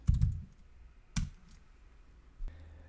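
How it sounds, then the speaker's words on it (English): A few crisp computer keyboard keystrokes arrive in three separate clicks, near and fairly quiet, as a vim command is typed at the command line prompt in a quiet room. "The way to get started is just to type Vim at the command line prompt."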